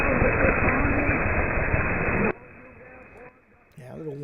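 A shortwave radio receiver tuned to a station gives a loud, dense hiss of static that suddenly drops to a quieter crackle, then faint tonal station audio rises toward the end.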